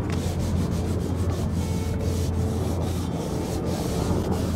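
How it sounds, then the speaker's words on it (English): Hand sanding of small wooden spots before a finish goes on, a steady close scratchy rubbing with quick repeated strokes that runs continuously throughout, no talking. "right now I'm just sanding a few little spots"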